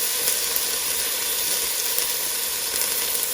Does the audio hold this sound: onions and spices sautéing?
yes